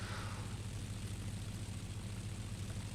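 Spitfire Mk.I piston engine in the X-Plane 10 flight simulator, a steady low droning hum with a pulsing propeller throb at constant level, alone with no talking.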